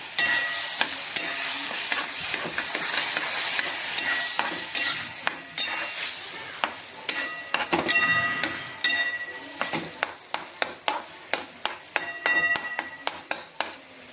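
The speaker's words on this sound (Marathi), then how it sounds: "बघा मी दूध टाकते आता." Milk hits roasting semolina for suji sheera in a pan, setting off a steady hissing sizzle while a spoon stirs and scrapes with quick, sharp clicks that grow more frequent toward the end; no voices.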